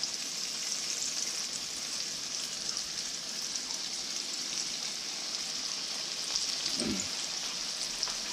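A pork chop fries in vegetable oil, giving a continuous crackling sizzle that holds steady and close, with a brief soft bump near the end and no talking.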